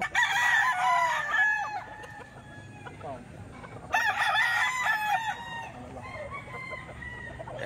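Several bullstag gamecocks crow repeatedly at a Saturday poultry market in Baliwag, their overlapping calls loud and close, with a break and a fresh burst of crowing midway, over a steady crowd murmur.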